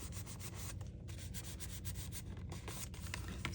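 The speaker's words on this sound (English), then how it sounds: "And now pinch the sides and rub." Fingers pinch and rub a glued paper flower petal for a 13-inch paper rose, a soft, close, rapid scratchy rustling that repeats in short strokes with no talk.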